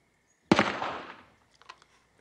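A single sharp, loud blast rings out and decays over about a second, followed by a few faint scattered pops, outdoors at a backyard barbecue.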